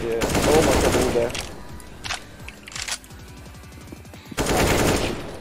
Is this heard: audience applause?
no